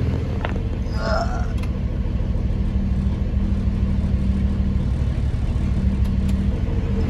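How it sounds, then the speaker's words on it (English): A Subaru engine idling at operating temperature, a steady low hum and rumble with no revving, heard close and even throughout. "Car's been running for a few minutes now. It's up to operating temperature."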